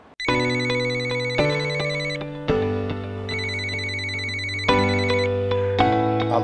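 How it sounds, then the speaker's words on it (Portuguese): A telephone ringtone plays loud and close, a bright electronic melody of sustained tones that shift pitch every second or so, with no other sound. "O telefone tocou e quando você foi atender"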